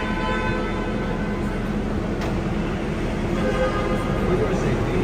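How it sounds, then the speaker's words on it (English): A Disneyland tram sets off with a steady low rumble and broadband rolling noise, held at an even level throughout, while a voice is faintly heard over it. "This tram is getting ready to depart"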